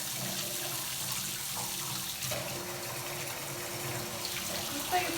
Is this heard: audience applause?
no